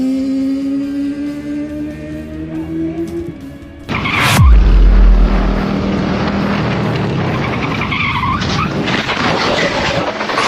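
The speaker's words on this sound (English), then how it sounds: "When you exceed the physical traction limits of your tires, the wheels give out under the heavy lean." A motorcycle crashes in a low side at a track day, its high engine whine cutting off into a loud scraping slide across the surface that carries on for several seconds.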